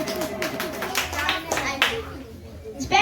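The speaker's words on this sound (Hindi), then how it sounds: "जोरदार तालियों से स्वागत करें गौतम के लिए" Applause at a children's Independence Day celebration welcomes a class 5 student speaker, with steady clapping from a small crowd mixed with voices and chatter.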